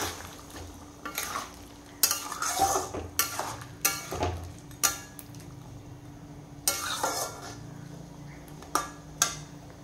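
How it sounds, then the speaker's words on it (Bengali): Curry is stirred in a pan, with a string of separate scraping and clattering strokes of a utensil against the pan at an uneven pace over a faint sizzle, close by and with no talk. "আর এদিকে তরকারিটাকে একটু নাড়াচাড়া করে দিই।"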